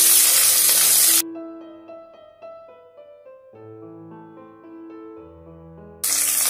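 Okra sautés in a pan for a tamarind puli kuzhambu, giving a loud, steady sizzle that stops while music plays and then returns at the end.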